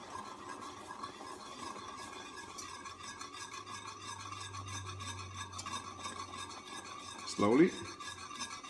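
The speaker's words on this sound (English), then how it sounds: "I'm whisking my heavy cream right now." A whisk works heavy cream into very hot cooked sugar in a pan, giving a steady, fast, rasping scrape of repeated strokes throughout at moderate distance, with a brief sharper burst near the end and one quiet spoken word.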